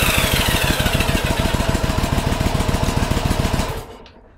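A Yamaha Virago motorcycle engine cranks with a fast, steady rhythmic chugging from the starter for several seconds, loud and close, then cuts off abruptly into near silence.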